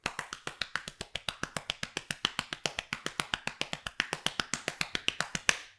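Drumsticks playing a steady double stroke roll on a practice surface, about forty crisp, evenly spaced taps in paired rhythm, close and clear with no talking.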